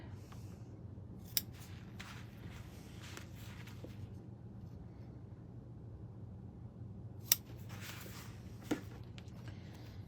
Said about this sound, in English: I'm just using my big scissors. And I'm just gonna trim up here real quick.